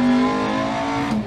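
Rally car engine in Dirt Rally 2.0 droning at steady high revs at a stage start in New England, loud and close with no voices.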